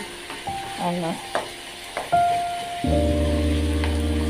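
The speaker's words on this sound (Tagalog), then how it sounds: "Niluluto ko yung giniling." Ground meat cooks in a pan for an artichoke-bottom and vegetable dish, with a few clanks and scrapes of stirring before a steady sizzle takes over, close up.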